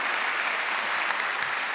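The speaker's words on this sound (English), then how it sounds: "You guys can clap if you'd like for this one." Dense, even audience applause at a televised governor's race debate between two candidates, a steady continuous wash of clapping from a seated crowd with no talk over it.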